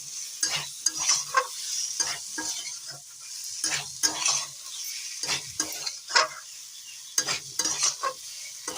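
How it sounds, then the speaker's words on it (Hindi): Potatoes and cauliflower fry in a pan while being stirred with a utensil, giving a steady sizzle broken by repeated scraping strokes, close and moderately loud, with no talk. "आलू फुल कोबी की भल भाव कषि दबा, एमती मसला सब लगी जिवो।"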